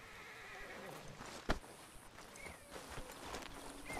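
Horse in Red Dead Redemption II whinnies and neighs over clip-clopping hooves, with a sharp burst near the middle and faint game ambience throughout.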